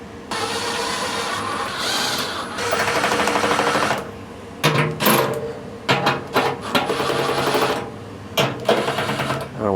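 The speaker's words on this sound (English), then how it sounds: "now we just got to put our bolts back in" A power tool driving bolts back in during a PM repair job, whirring in sustained runs then short repeated bursts with pauses between, close and loud, with no talking.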